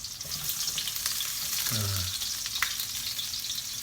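Chopped onions sizzle and fry steadily in a hot pan as the first step of cooking adobo, a continuous close crackle with a brief stirring scrape midway.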